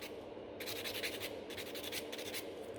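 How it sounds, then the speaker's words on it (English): A nail file rasps back and forth over the middle of a nail coated in gel with large encapsulated glitter leaves, a close, steady scratchy scrubbing that pauses briefly near the start. "I'm just filing in the middle, especially that this is extremely a sharp"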